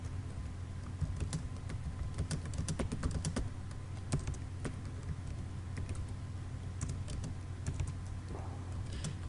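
Steady typing on a computer keyboard in a CorelDRAW tutorial, with soft, continuous clicks over a low background hum that runs for several seconds.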